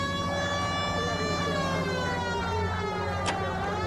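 A police car siren in the L.A. Noire video game wails steadily and loudly, a bright layered tone sustained throughout over low engine rumble.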